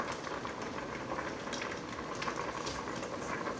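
Dumplings cook in boiling water inside an Instant Pot for chicken and dumplings stew, giving a steady close bubbling and simmering hiss with small pops, running evenly throughout and without talk.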